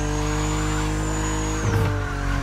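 Steady loud car engine drone with a high whine in the drift racing game The Crew Motorfest, shifting near the end into a brief burst of tire and engine noise before settling back.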